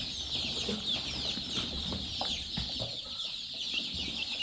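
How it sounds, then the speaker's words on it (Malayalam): Newly bought chicks let loose into a brooder on a poultry farm, a dense chorus of high, continuous peeping from many birds close by, with light rustling and handling sounds underneath. "നമ്മൾ പുതിയ കോഴിക്കുഞ്ഞുങ്ങളെ റിലീസ് ചെയ്യാൻ പോവാണ്"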